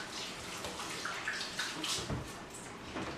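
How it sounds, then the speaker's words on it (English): Hands are washed with antibacterial soap under a running tap after handling raw chicken in a kitchen. The water hisses and splashes at a steady, moderate level throughout, with slight shifts as the hands move in the stream and no speech. "you wash your hands with antibacterial soap after handling raw chicken."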